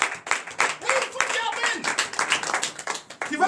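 A church congregation at a night deliverance service in Comè, Benin claps for the preacher, quick uneven bursts of handclaps mixed with voices talking and calling out over them.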